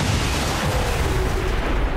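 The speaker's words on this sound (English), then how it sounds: "I keep forgetting loud explosions draw more." A loud, sustained rumbling blast of a grenade explosion in XCOM 2: War of the Chosen fills the whole stretch, dense and close, with no clear break or talking.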